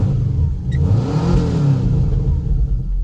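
A 1993 Subaru Legacy wagon with no proper exhaust system, only a bare pipe out the back, revs loudly close by, its engine rising into a raw, rumbling, throaty roar that stays heavy and sustained.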